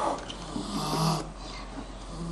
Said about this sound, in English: This calf's suffering is evident by her vocal bellowing, labored breathing, and frantic attempts to escape.